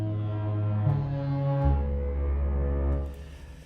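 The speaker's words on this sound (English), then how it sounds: "But I did not notice it was foghorn." Foghorn from a sound library plays as a deep, sustained, stacked horn tone, shifting lower partway through and then fading out, loud and alone.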